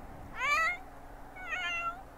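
A cat in The Sims 4 meows twice, with two plaintive mid-pitched calls about a second apart over a quiet background.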